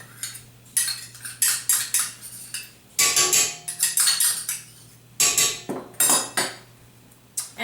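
Eggs and canned pure pumpkin are beaten together in a bowl for a pumpkin roll, making bursts of rapid, close metallic clinking and scraping in several separate runs, with short pauses between them.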